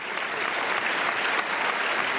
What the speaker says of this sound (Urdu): تالیاں بھائی